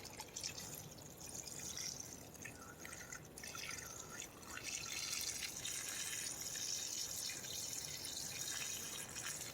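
Water is poured and splashed over a Vivobarefoot Tracker Textile FG2 hiking shoe, producing a continuous soft trickling and dripping. It is faint and steady throughout, with no voices.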